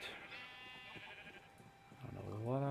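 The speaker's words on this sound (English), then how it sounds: "got some baby sheep in there." Baby sheep bleat in the Minecraft video game, a quavering animal cry rising near the end after quieter game ambience and soft background sounds, with a brief earlier bleat-like tone.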